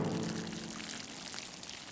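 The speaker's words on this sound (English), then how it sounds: "Grandpa stood behind the watering can and carefully lifted it up." Water pours steadily from a watering can onto seeds, a continuous splashing gush that tapers slightly as it goes on.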